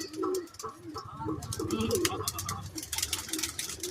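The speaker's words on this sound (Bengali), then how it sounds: "এ দাদা পায়রাগুলো সব খুলে দিচ্ছে।" Several pigeons coo in low, throaty bursts nearby, mixed with fluttering wing sounds, while people talk in the background.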